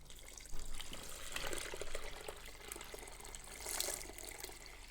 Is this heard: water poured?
yes